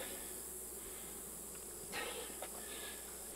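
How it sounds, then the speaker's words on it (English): Honeybees drone in a steady, faint buzz during an open beehive inspection on a farm, with a couple of brief nearby knocks from the hive parts. "to worry about smashing any bees unnecessarily"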